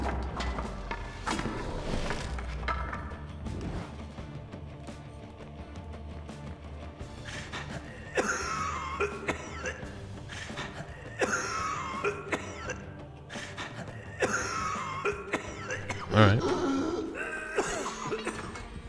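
A character in Prince of Persia: The Sands of Time coughs repeatedly in bursts over quiet game music and ambience, the coughs rising near the end.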